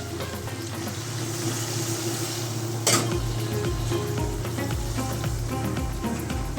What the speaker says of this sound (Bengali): সেদ্ধর জন্য একটু জল দেবো।